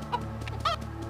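A chicken in the video game Mini Ninjas gives two short, faint clucks over a low steady hum.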